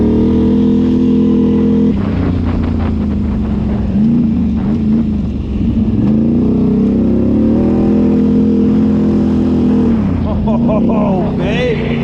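A Can-Am Outlander 850 XMR ATV drones loudly and steadily along a trail, its engine note rising and falling with throttle and wind buffeting the microphone, with a voice talking briefly over it.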